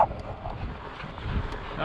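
Wind buffets the microphone on a windy day out in the San Rafael Swell, a steady low rumbling roar with gusty swells and no voices, loud and close throughout.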